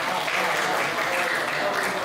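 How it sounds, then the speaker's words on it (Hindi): Dense, steady audience applause fills the clip, many hands clapping together at an even, fairly loud level. "और ये जो तालियां आप बजा रहे हैं"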